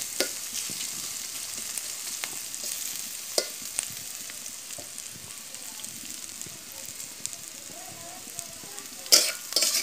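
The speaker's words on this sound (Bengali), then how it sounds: "লাল লাল করে ভাজি করে নিতেছি।" Gura fish frying with chopped onions in a clay pot over a village clay stove, giving a steady soft sizzle with scattered crackles and occasional stirring scrapes, close and continuous.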